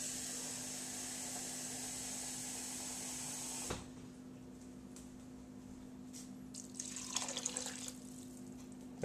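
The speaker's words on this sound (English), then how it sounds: "added about 2 cups of water." About two cups of water are poured into a pot of chili, giving a faint splashing trickle late in the passage. Before that comes a steady background hum and a sharp click.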